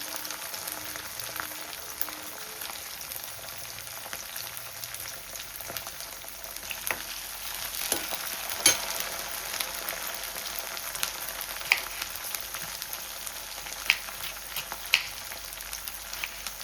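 Green chillies fry in hot oil in a pan for a besan dish, giving a steady, even sizzle with a few sharp crackles and pops scattered through it, no talking.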